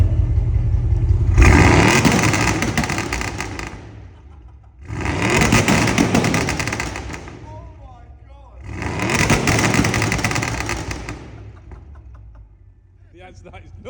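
An Audi RS6 engine revs hard three times in close succession, each loud, roaring burst holding for about two seconds before dropping back to a rumbling idle.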